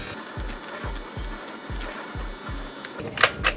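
A label printer running for about three seconds, feeding out a label for a homemade eco-friendly dishwasher detergent, with steady rhythmic mechanical clicks and a whirring hum, close and moderately loud, followed by a few brief sharper rattles at the end.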